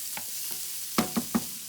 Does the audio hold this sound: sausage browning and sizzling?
yes